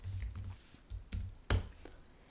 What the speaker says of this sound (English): So I'm going to type in line type.